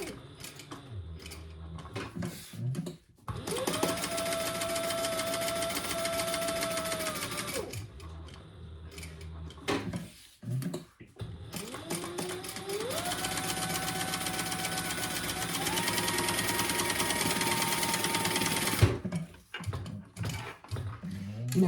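A sewing machine basting a bag flap in place runs in two long bursts of steady, buzzing stitching, with short pauses and brief shorter runs between them, close and loud, with no talk.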